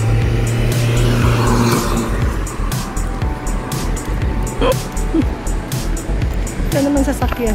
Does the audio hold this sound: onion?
no